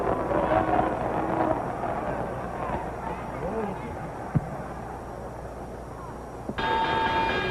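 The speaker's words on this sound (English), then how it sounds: "And there's the bell." A boxing ring bell signals the start of round one of a middleweight title bout. It rings out clearly near the end over a continuous murmur of arena crowd noise.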